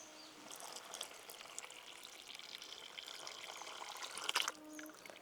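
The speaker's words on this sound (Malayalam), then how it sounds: "ജ്യൂസ് എടുത്ത് വെച്ചില്ലേ, അത് ഇതിലേക്ക് ഒഴിച്ചു കൊടുക്കുക." Beetroot juice is poured into boiling sugar syrup in a pan, a quiet trickling and bubbling liquid sound with a brief louder splash near the end.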